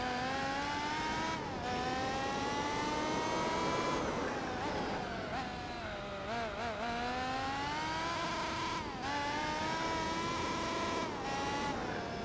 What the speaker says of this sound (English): There's probably other people saying that the engine is too loud.